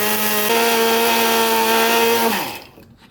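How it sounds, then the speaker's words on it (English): A small electric coffee grinder powders clay kitty litter for metal casting sand, its motor a loud, steady high whine with a rattling grind that drops in pitch and dies away as it switches off. "and then you just grind it."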